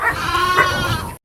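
A goat on a farm lets out one loud, close, wavering bleat that fills most of the moment before cutting off abruptly.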